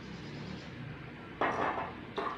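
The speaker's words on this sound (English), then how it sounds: "I am going to fill this cup and pouring into a mug." Water poured from a cup into a mug while measuring how many cups fill it, heard as two short splashing bursts over a quiet room background.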